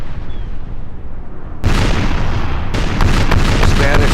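Warships in Napoleon Total War fire cannon broadsides in a naval battle. The first loud boom hits at about 1.6 seconds, and a rolling series of shots follows near 2.7 seconds amid continuous battle noise.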